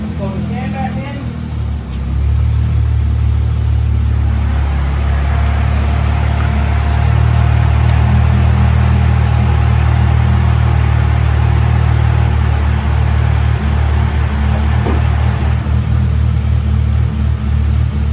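A Mercedes SLK320 engine fires up from a cold start and settles into a steady, fairly low idle in park, a constant low rumble that carries on close by for the rest of the stretch.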